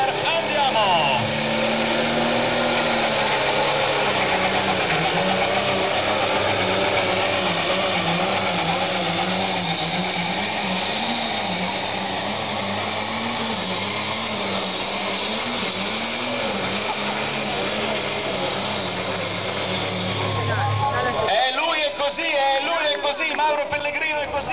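A pulling tractor roars at the start of its run on the Gonzaga track in Italy, its engine loud and sustained with wavering pitch as it strains under load, an announcer talking excitedly over it before the roar cuts off abruptly.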